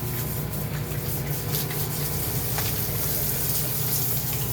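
Water pours and gushes steadily while farm animals are being bathed, a continuous close splashing rush with no break and no voices.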